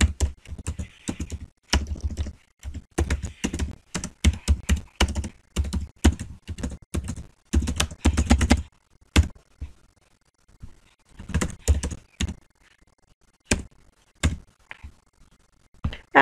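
Computer keyboard typing while entering clues and answers in a crossword puzzle program: dense bursts of quick, close keystrokes for about nine seconds, then sparser isolated taps with short pauses between them.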